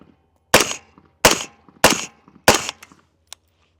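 Four sharp suppressed 5.56 rifle gunshots fired at 15 yards, each a loud crack with a short decay, spaced roughly evenly about two-thirds of a second apart, followed by a faint click.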